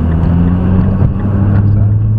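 A car driven by a junior driver accelerates on the throttle with a loud, steady low engine drone, close by. A faint voice is heard briefly underneath.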